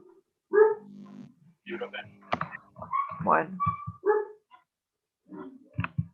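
A pet dog barks in short bursts at a home during an online plant pathology lecture, the sharp barks mixed in between and under a man's speech at moderate loudness.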